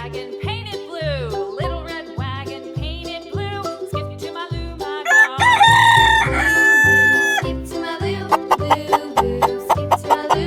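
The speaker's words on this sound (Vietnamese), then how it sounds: "Con gà." A rooster crows loudly in a single long cock-a-doodle-doo, preceded and followed by clucking, all over a bouncy rhythmic music track.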